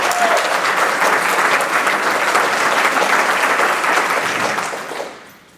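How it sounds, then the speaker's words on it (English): An evening lecture-series audience claps loudly and steadily for several seconds before the applause dies away. "I think that Kathy deserves a round of applause for all her very excellent work on our lecture series."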